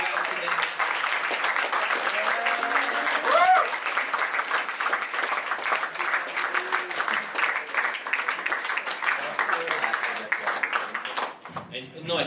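Audience applause at an award ceremony closing party, continuous clapping carried under a voice talking over it most of the way, with a sharp drop-off just before the end.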